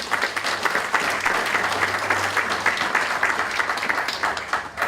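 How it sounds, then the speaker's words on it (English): A breakfast audience applauds their CEO, brisk steady clapping from many people filling the room for several seconds. "Please give Tim a round of applause, our CEO"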